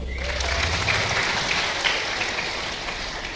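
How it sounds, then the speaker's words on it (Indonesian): Church congregation applause during a lively sermon, a dense wash of clapping from many hands right at the start that holds steady and then eases slightly. "Tepuk tangan dulu."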